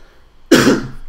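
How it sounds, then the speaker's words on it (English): A single short cough bursts out close to the mic after a moment of quiet, then trails off. "Sorry, didn't want to cough into the mic"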